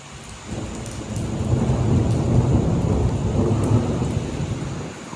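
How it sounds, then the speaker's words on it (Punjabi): A deep, rolling rumble of thunder builds and swells over steady rainfall during a windstorm, lingering for several seconds before slowly fading. "ਬਦਲ ਗਰਜ ਦੀ ਆਵਾਜ਼ ਸੁਣਦੀ ਆ"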